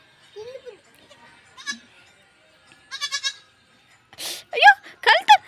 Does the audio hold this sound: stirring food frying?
no